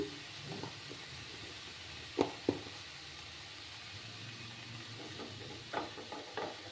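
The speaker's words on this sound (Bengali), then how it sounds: "দিয়ে ভালো করে মিক্স করে নেব" Turmeric stirred into fish and red amaranth greens sizzling in a pan, a steady low fry hiss broken by a few sharp spoon scrapes and clicks, close and fairly quiet.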